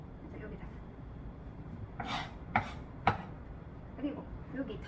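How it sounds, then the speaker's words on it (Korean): A knife cuts through a pufferfish during butchering, giving three or four short, separate scraping strokes near and fairly quiet over low background noise. "이렇게 쓱쓱쓱쓱 계속 칼질을 하시면"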